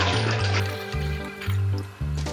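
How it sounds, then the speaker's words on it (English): Water poured into a plastic soda bottle in several bursts, gurgling and splashing loudly up close with short pauses between pours, and no one talking. "fill one of your bottles with water."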